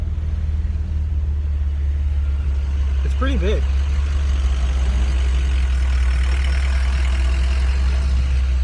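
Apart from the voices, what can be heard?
road traffic heard from inside a car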